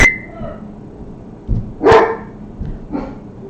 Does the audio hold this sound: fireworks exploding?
no